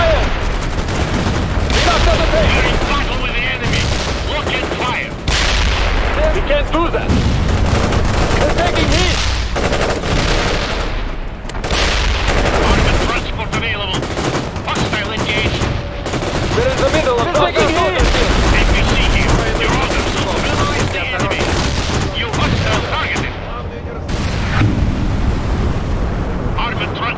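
Sustained battle din from the World in Conflict strategy game: dense gunfire, machine-gun bursts and explosions rumble loudly and continuously, with radio voices talking over the fighting.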